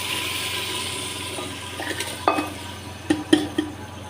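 Rice stirred in water in a pot cooked on a chulha, heard as a low watery swish with a few sharp clinks of a utensil against the pot toward the end.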